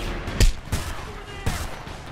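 Bursts of gunfire from the video game Homefront: three sharp broadband shots spaced under a second apart, loud and close, with a low rumbling battle ambience between them and no speech.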